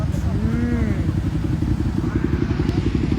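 A superbike rides past a check post at Kaniyur, its engine a loud steady roar with a pitch that rises and then falls as it passes, heard alongside background chatter.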